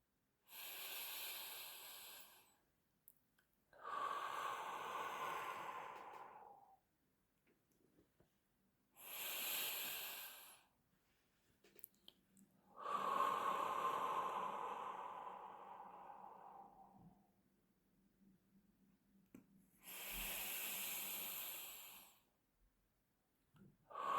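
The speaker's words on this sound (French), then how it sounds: "je vous propose de prendre 3 respirations qui vont vous permettre de vous relaxer et de vous ancrer dans le moment présent" Three slow, deep relaxation breaths, each a long airy inhale followed by an audible sighing exhale, spaced evenly with quiet pauses between, close and soft with no talking.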